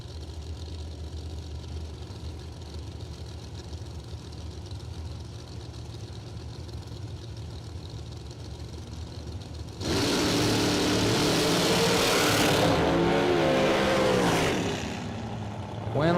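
At a drag strip, hot rod engines idle with a low steady rumble, then burst into a loud, roaring launch that holds for several seconds before tapering slightly, heard alone without talk.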